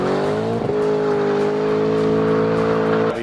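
A 2017 Shelby Ford Mustang GT-350 engine drones loud and steady nearby, its tone holding nearly level with a brief dip early on.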